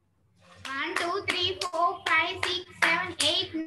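Children at a Sunday school kids' club clap their hands in a run of quick claps, mixed with their bright voices throughout.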